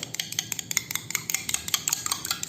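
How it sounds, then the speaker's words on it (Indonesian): One egg whisked in a bowl for fried tofu meatballs, rapid rhythmic clinking of utensil against the bowl, close and steady without talk. "Aku akan kocok 1 butir telur."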